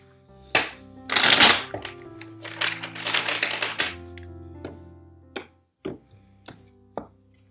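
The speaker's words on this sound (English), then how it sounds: "One last shuffle." A deck of tarot cards shuffled by hand: a loud riffling burst near the start, then several softer shuffles and sharp taps as the cards are squared, close and clear, with no talking.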